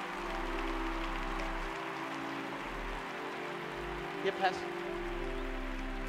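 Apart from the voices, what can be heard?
audience clapping hands at a church altar call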